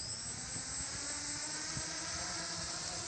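A homemade quadcopter's motors and propellers whine in a steady, high buzzing drone during a test flight, continuous and fairly faint with no voices.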